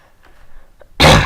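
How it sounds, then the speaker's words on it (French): After a moment of near silence and a faint breath, a single sharp cough bursts out loudly and close. "désolé si je tousse"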